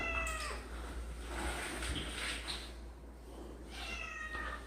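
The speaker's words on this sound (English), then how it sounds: "we found a cat that's been locked up in there for like 5 days, and the cat's meat. The cat's mad." An angry cat shut in a closet gives a drawn-out, irritated meow at the start and another near the end, fairly close but muffled, over a low steady hum with no talking.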